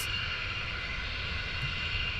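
F-15C jets taxiing at RAF Lakenheath during morning surge operations, a steady distant engine whine and rumble that holds evenly throughout with no talk.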